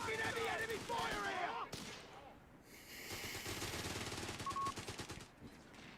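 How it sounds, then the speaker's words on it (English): Heavy machine guns rattle through a Company of Heroes 3 tournament battle, long rapid bursts heard at a moderate distance among other battle sounds, while a commentator talks over the fire. "Taking heavy enemy fire"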